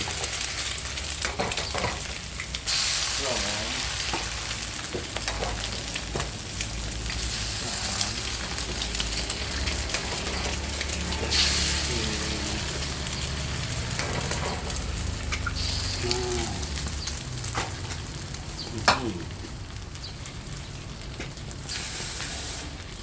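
Bamboo shoots and egg stir-fry in lard with a steady, loud sizzle, while a spatula scrapes and clatters against the pan throughout.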